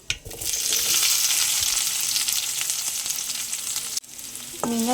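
Onions with curry leaves sauté in a pan for egg chapati, giving a loud, close, continuous sizzle with stirring clatter, a brief dip near the end before the frying resumes.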